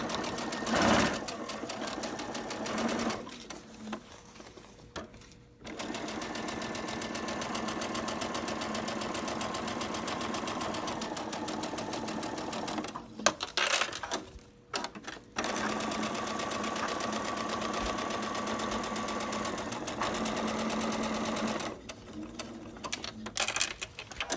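A sewing machine stitches a holiday mug rug in long steady runs of fast, rattling needle strokes, broken by a few brief pauses, close by with no voices.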